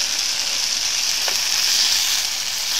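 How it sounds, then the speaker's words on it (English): Bacon sizzling steadily in a pan for a bacon butty at an outdoor shelter build, a constant close hiss with no talking. "just going to do myself a bit of bacon butty"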